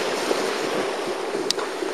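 Steady ocean surf at night near an airport shoreline makes a broad, even wash that stays constant and moderately loud, with no talk over it.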